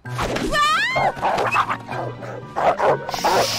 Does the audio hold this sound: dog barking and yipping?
yes